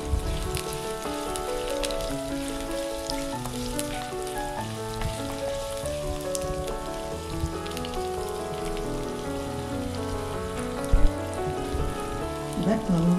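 Small onions (shallots) sauté in hot oil for a pepper chicken curry, a constant crackling sizzle like rain running beneath steady background music.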